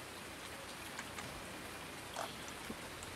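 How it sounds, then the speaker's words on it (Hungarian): Gentle, steady rainfall in Farming Simulator 19, a soft even hiss of drops with a few faint patters, heard alone at low volume. "És meg is eredt az eső"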